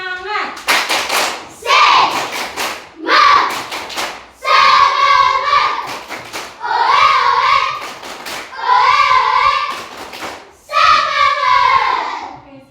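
A classroom of students does the rhythmic tepuk semangat spirit clap, with bursts of patterned hand claps between loud, chanted group voices, repeated over several rounds nearby.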